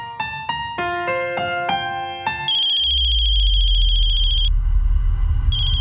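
A phone ringtone plays a bright, plinking melody up close, then shifts into a sustained electronic tone that repeats after a pause, with no talking.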